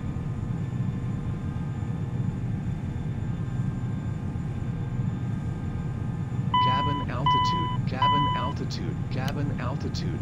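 A cabin altitude warning sounds in an X-Plane 11 cockpit of a Challenger 300 airliner, a repeating synthesized tone alert over steady engine hum, with someone talking in the cockpit.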